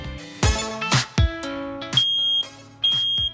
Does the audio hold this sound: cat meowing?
no